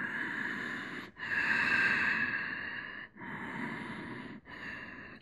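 Long audible breaths during a yoga flow, slow drawn-out inhales and exhales close to the microphone, four sustained breaths separated by brief pauses.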